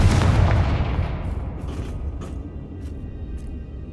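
Confringo fire spell blast in the Hogwarts Legacy video game, a loud, deep explosive boom that starts at once and fades slowly into a rumbling tail with faint crackles.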